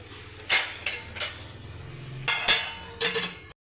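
A metal lid set on a kadhai cooking pan, several sharp clinks and knocks spaced over a few seconds, close and fairly clear against a low kitchen hum.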